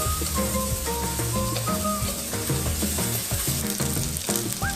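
Old ginger, tea tree mushrooms and dried chilies stir-fry in hot oil in a wok, giving a crisp, continuous close sizzle with a melodic tune playing softly underneath.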